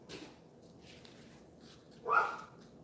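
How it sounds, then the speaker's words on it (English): A single dog bark sounds from a distance, muffled as if outdoors, with faint rustling and quiet background noise before and after. "If you hear my dogs outside, I apologize."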